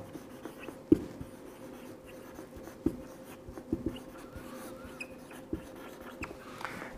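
Pen on paper while a math problem is worked out by hand: faint, continuous scratching strokes with occasional sharper taps, quiet and close, with no talking.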